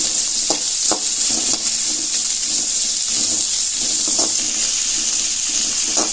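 Onions and dried chillies sauté in a pan with a loud, continuous hissing sizzle. Scattered scraping knocks from the spoon stirring run under the hiss.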